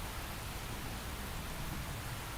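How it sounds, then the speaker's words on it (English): Steady rain in Xenoblade Chronicles X, an even, faint hiss of falling water with no distinct drops, constant throughout without change. "The rain's starting to let up, just in time for sunrise."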